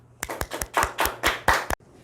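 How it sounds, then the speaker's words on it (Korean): A small church youth congregation claps to welcome the pastor, a short burst of about half a dozen sharp, uneven claps close by before falling quiet. "우리 박수로 함께 맞이하겠습니다"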